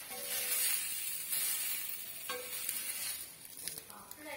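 Onion dosa batter frying on a hot pan over high flame, a steady close sizzle and hiss with occasional stirring or scraping clicks, no talking.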